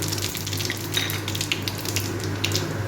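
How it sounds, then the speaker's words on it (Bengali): Whole spices for a pumpkin-stem and poppy-seed curry hiss and sizzle steadily in half a cup of hot oil, a close, even frying crackle with no talking. "তেলটা গরম হয়ে গেছে, আমি এবারে ফোড়নটা দিয়ে দেব।"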